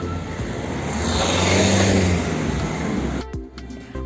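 A car on a street in Viana do Castelo, Portugal, idling near a pedestrian crossing, its engine a steady, close rumble with a faint rise in the middle before it cuts off sharply near the end.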